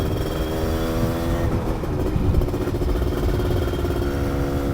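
A Yamaha F1ZR two-stroke motorcycle with a bored-out engine and new oversize piston runs at light, steady throttle, giving a continuous buzzing hum up close with a slight swell midway.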